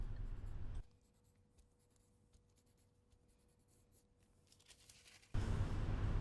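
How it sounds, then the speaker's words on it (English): A pencil scratches continuously on paper while a line is drawn on a pencil-skirt sewing pattern, clearly heard across a quiet stretch between louder background sections. "I'd better draw the line this way."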